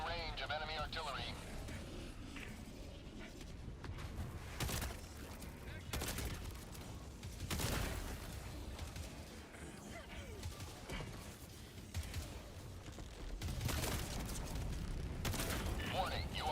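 Enemy artillery in Helldivers 2 arrives as scattered booming blasts and bursts of gunfire mixed with game sounds, while voices talk over the action.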